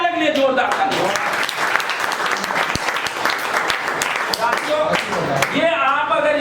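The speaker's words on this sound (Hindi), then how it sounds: "मैंने चाहूंगा एक बार भटकने वाले के लिए जोरदार ताली" An audience at a leaders' team meeting bursts into loud, sustained applause, dense clapping filling the whole stretch with a few louder claps standing out near the end.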